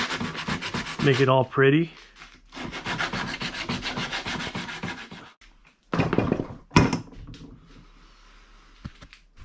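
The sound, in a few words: sanding PVC with sandpaper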